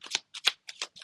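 A deck of tarot cards riffled and shuffled up close in four quick bursts, each a crisp, papery flutter separated by short silences.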